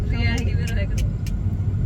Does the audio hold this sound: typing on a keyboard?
no